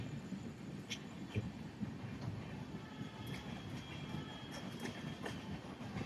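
A Mandovi Express train rolls past Ghatkopar station without stopping, a steady low rumble of carriages and wheels with faint clicks and brief high squeals over about six seconds, no voices.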